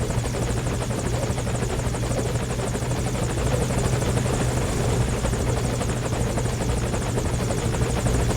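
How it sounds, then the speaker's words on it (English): In the Metal Gear Solid V video game, a helicopter arriving for extraction fills the scene with a loud, continuous rotor drone and engine whine that holds steady throughout, with no voices. "We escape with Miller and call in a helicopter for extraction"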